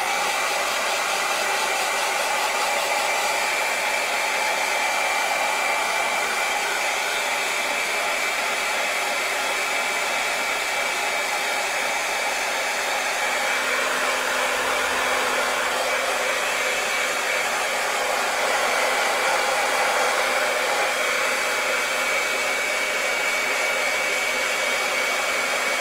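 A powerful hot-air hair dryer blows over a 1/10th scale Tamiya RC car body shell during custom airbrush painting, a loud, unbroken whooshing whir that holds steady for the whole stretch with no voices.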